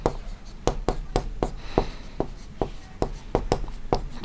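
Pen or chalk strokes writing numbers while a ratio problem is worked out in a class-6 maths lesson, a steady run of short sharp taps and scratches, close and fairly quiet, with no talk.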